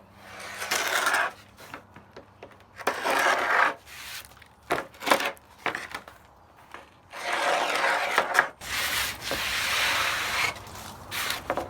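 A hand scraper works loose paint off old original wooden beadboard in bursts of harsh, rasping strokes separated by short pauses, close and fairly loud.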